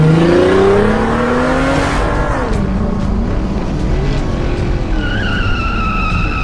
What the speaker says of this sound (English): he turned on the Batmobile's booster rockets and took off.